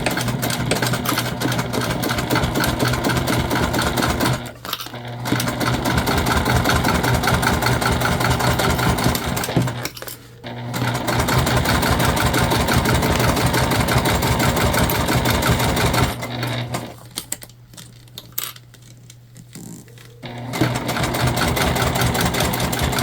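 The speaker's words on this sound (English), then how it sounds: "we're just gonna stitch this on. We're gonna go about 1/8 of an inch from the bottom." A sewing machine stitches a tote bag about an eighth of an inch from the bottom edge, its steady rapid mechanical whirring running continuously with a few short pauses where the stitching stops and restarts.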